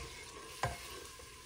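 Masala fries in a pan with a soft, faint sizzle and a single brief scraping tap of a spoon midway, quiet and close.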